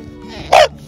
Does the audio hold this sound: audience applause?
no